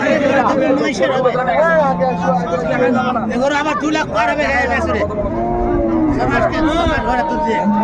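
Cattle lowing at a rural livestock market selling dairy cows and calves, several loud moos layered over a busy crowd of people talking nearby.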